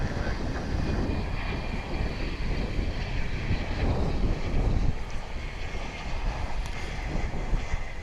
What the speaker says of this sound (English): This is a CRJ 900 or 901.